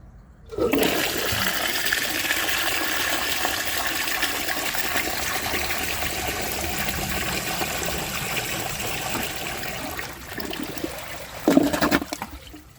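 A 1902 Fleck Bros. Victor toilet flushes with a sudden loud rush of water that holds strong and steady for about ten seconds, then tapers off with gurgling and a final burst before draining quiet.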